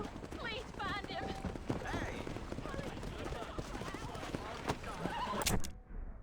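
Horse hooves clip-clop in the Red Dead Redemption video game, a steady trotting rhythm running through the clip under game dialogue and busy ambient sound, with a brief whinny-like burst near the end.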